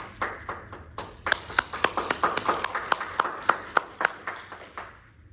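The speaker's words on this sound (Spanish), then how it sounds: "démosle un fuerte aplauso por favor al doctor Jovan" Audience applause for a speaker at a national research seminar: a steady round of crisp, fairly sparse hand claps from a small crowd, lasting about five seconds before tapering off, with no talk over it.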